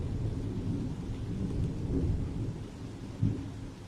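Steady rain falls outside a house with rumbling thunder underneath, and a sharper thunder crack comes near the end, all without voices.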